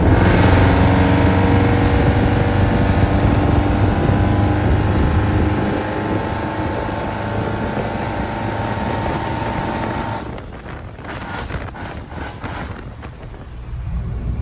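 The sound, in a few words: square body truck engine accelerating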